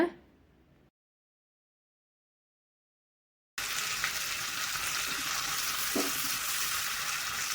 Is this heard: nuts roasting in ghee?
yes